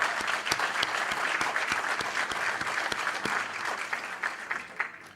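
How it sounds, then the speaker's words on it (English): Audience applause at a City of Darien Citizen of the Year ceremony honoring Lou Mallers, a steady dense clatter of many hands clapping throughout, fairly loud and continuous with no talk. "We applaud you all"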